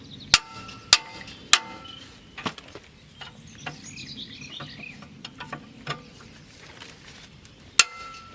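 A few sharp metallic strikes of a heavy hammer on an Audi A4 B8 rear brake disc ring out, two or three close together at the start and one more near the end, with quieter tapping and faint rustling between.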